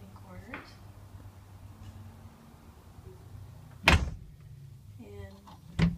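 A door into the living quarters of a 2002 4 Star three-horse gooseneck trailer with an Outlaw interior bangs sharply twice, near and loud, a couple of seconds apart, with a voice heard briefly between the knocks.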